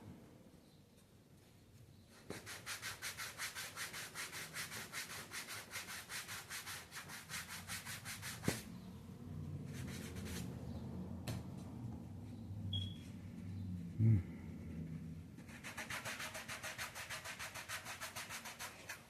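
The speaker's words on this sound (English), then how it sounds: "I brought these sanding blocks at Menards," Sanding blocks bought at Menards rubbed over a surface in rough, scratchy strokes, with a quiet start, then long runs of steady sanding broken by short pauses, close and fairly loud.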